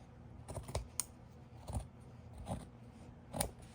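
Scissors cutting the ribbed cuff off a sock, a few separate snips and crunchy cuts spaced about a second apart, close and fairly quiet with near silence between them.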